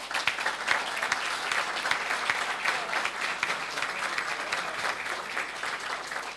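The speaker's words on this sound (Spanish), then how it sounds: "así que un fuerte aplauso." A crowd at a development and federalism forum in Resistencia, Chaco applauds steadily and loudly throughout, with dense overlapping claps and no voices standing out.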